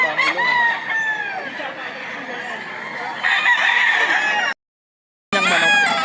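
A fighting rooster at a gamecock sale in Lipa, Batangas crows loudly and close, two long drawn-out calls with clucking between them and a brief silent gap, with faint voices in the background.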